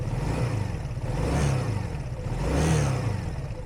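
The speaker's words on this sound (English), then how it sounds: "The revs hanging, it's taking a long time for the revs to drop." A Honda Benly motorcycle engine with hanging revs: two slow swells of revving rise and then sink back only gradually, a close, low, continuous engine note with no talk.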